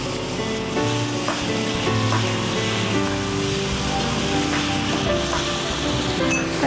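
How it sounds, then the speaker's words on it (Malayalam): Yellow, red and green capsicum sauté in a hot pan with a loud, dense, continuous sizzle and occasional faint stirring clicks, close and steady, with no talking. "ഇനി നമ്മളിതിലേക്ക് ക്യാപ്സിക്കം, മഞ്ഞ ക്യാപ്സിക്കം, റെഡ് ഉണ്ടെങ്കിൽ റെഡ് ചേർക്കുക"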